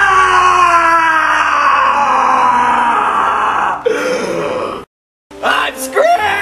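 A long, strained vocal cry rises and holds loudly, then cuts out abruptly; after a brief silence, a few shorter vocal outbursts follow.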